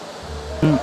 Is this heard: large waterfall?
yes